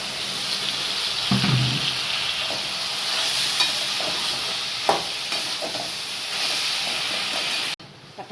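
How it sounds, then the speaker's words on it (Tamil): Bottle gourd and tomato sauté in a pan, giving a steady loud sizzle and hiss with occasional stirring scrapes and clinks, no talking. "சுரக்காய் கொஞ்சம் வதங்கி பாதி தக்காளி பழம் போட்டுக்கலாம்."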